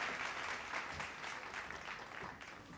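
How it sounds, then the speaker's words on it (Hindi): Audience applause at an education conclave on Bihar education policy, a steady, faint patter of many hands clapping that continues for a few seconds and tapers slightly at the end. "जोरदार तालियां हो जाएं।"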